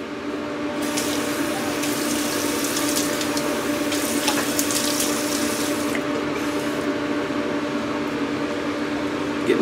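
Tap water runs steadily into a sink for wetting the face before a shave, a continuous close splashing hiss with a faint hum beneath, lasting the whole stretch without voices.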